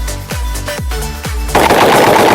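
A shotgun loaded with low brass shells fires three loud, close booms in quick succession at soda cans, followed by a noisy burst of clatter.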